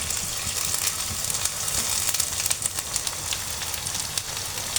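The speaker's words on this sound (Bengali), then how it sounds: "এটাকে এখন আমি 2 থেকে 3 মিনিটের মতো একটু ভেজে নেব।" Onion, garlic and ginger fry in a pan for a Bengali potato and dried loitta fish dish, giving a steady, close sizzle with a crackling, spitting texture that keeps going throughout.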